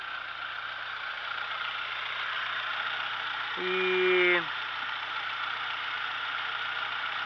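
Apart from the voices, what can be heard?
1974 Dodge engine idling with slight shudder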